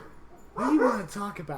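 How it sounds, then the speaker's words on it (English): A dog next door gives a brief whining, yelping bark, close and fairly loud, while a person talks over it. "if you hear dogs in the background,"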